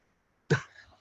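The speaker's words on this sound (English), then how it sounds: "I really got to clear my throat" A person clears their throat once in a dusty, dry room, a sharp close rasp that trails off into quiet.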